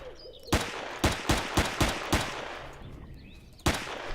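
Gunfire in the space survival game Empyrion Galactic Survival: loud, close single shots spaced about half a second apart in a run of five or six, a pause, then one final shot over a steady background hum.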